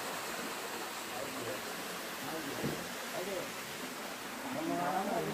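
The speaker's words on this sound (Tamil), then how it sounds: "அருவி குட்டி கொண்டிருக்கிறது." A waterfall pours near the Korakkar Siddhar cave, a steady broadband rush of water, constant and moderately distant, swelling slightly toward the end.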